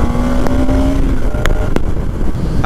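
A 2020 BS6 Bajaj Pulsar NS200 motorcycle engine revs up and drops back, a loud, close, rising mechanical drone with brief surges during gear shifts.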